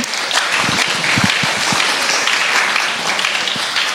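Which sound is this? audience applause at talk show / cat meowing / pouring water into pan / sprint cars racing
audience applause at talk show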